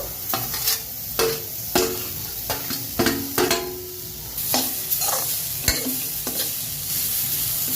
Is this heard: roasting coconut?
yes